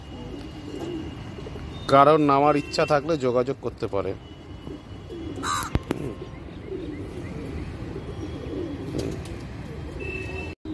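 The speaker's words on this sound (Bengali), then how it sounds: "এই পায়রাটাকে আমি ছেড়ে দেখাচ্ছি" A pigeon coos in a quick run of warbling, throaty notes close by, then falls quiet, with someone talking over and around the calls.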